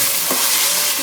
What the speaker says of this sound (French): Vous mélangez bien tout.